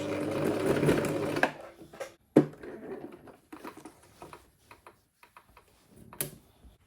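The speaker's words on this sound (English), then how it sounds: "Now you can top stitch." A sewing machine topstitches fabric on a butterfly bubu dress, running in a steady, close whirring burst for about a second and a half, followed by scattered clicks, ticks and fabric-handling noises.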